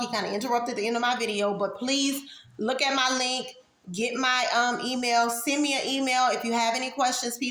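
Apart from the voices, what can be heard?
No everyday noise stands out behind the speech.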